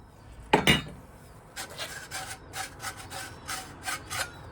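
Lubricated exhaust pipes sliding out of a BMW S1000RR motorcycle: a sharp metallic scrape, then a steady series of short, close rasping slides, with no talking.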